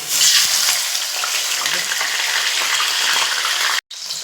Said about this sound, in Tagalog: Yan, prito na po tayo.